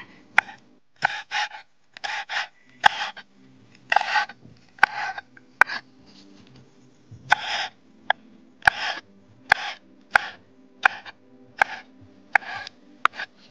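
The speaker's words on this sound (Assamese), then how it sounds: "এইফালে জলকীয়াখিনি কাটি আছে এতিয়া" Knife chopping green chillies on a board outdoors by a riverbank, sharp irregular cutting taps close up and fairly quiet, coming in short bursts with brief pauses between strokes.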